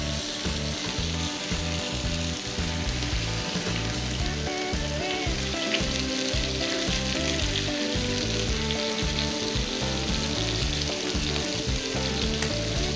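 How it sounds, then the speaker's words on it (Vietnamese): Chicken pieces frying in hot oil in a pan for teriyaki, a dense steady sizzle and crackle that stays loud and close throughout with no talk. "Và chiên cho tới khi mặt bên kia nó đạt được cái màu sắc tương tự nha."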